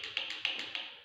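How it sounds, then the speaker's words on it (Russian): An internal combustion engine's valve rocker arm knocks from excess clearance, giving a fast, even series of sharp metallic ticks, close and steady, with no talk. "Здесь у нас видно коромысло прижато, здесь вот слышно, он стучит."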